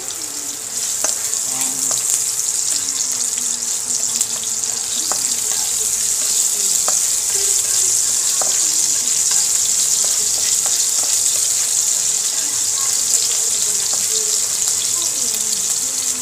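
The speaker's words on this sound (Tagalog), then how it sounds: "lagay na po natin ng mantika. Lalagay na po natin na ang una ang ating luya." Sliced ginger frying in cooking oil in a pan for ginataang tilapia, a loud continuous hiss and crackle of sizzling oil with occasional stirring clinks, steady throughout.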